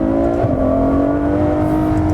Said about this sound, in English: you can drop down a couple of gears and give it full throttle for a fraction of a second